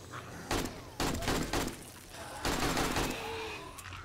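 Gunfire in a co-op video game: several loud bursts of shots in quick clusters, with a short pause between volleys and some background game noise.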